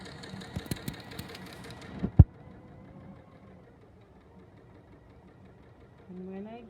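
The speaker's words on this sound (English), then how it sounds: "So I'm sewing down the right side." Domestic sewing machine stitching down the right side of a fabric piece at a short stitch length, a steady mechanical whirr that is loudest at first with a few sharp knocks, then quieter running.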